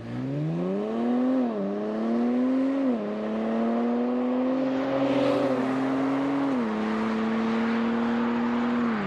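A Nissan Z NISMO being driven, its engine rising through gears with clear pitch climbs and drops at each shift, steady and fairly close with road noise beneath.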